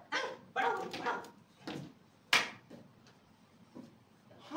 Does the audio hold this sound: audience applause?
no